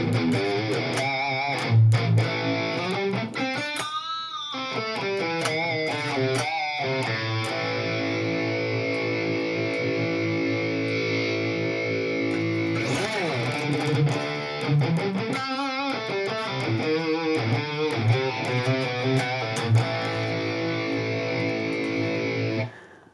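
An electric guitar runs through a Mooer GE-1000 effects processor, giving distorted, heavily processed chords and sustained notes that ring on steadily for over twenty seconds, then stop abruptly.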